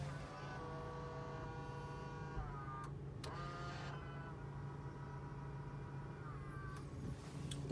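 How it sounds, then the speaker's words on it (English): Electric wing mirror on the passenger side of a Mazda Bongo camper, its small motor whirring steadily as the mirror adjusts and folds in, with faint clicks and shifting pitch partway through. "So the passenger side adjusts electrically, as well as folds in."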